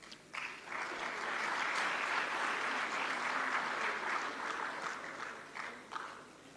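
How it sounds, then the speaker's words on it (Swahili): An audience at a public ceremony for state dividend presentations claps steadily for several seconds, a dense mid-distance burst of applause that swells and then tapers off. "tupongeze tena kwa makofi mengi"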